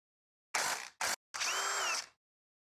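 Power tool driving a scooter bushing in with a 16 mm socket, three short close bursts, two brief and one longer whirring run, separated by silence.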